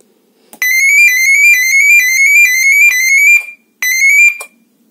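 A loud electronic alarm siren sounds in a rapid, repeating warble, cutting off briefly before blaring again for another short burst.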